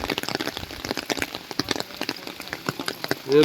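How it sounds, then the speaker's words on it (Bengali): Heavy rain pours outside during a mountain trek in Sikkim in April, close and loud. Thick drops patter and splash in a dense, irregular rhythm throughout. "বৃষ্টি হচ্ছে খুব"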